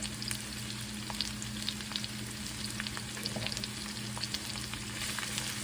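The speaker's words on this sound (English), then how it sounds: "we're just going to get in here and saute them" Salt fish sautéing in a pan gives a steady, close sizzle and crackle with frequent small scrapes and taps of a utensil, continuous throughout with no talking.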